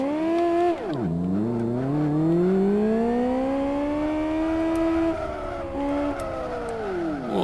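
A small go-kart in the Live For Speed racing game whines loudly and up close, dipping as it brakes, then climbing through a long, sustained rev before easing off again, with no voices.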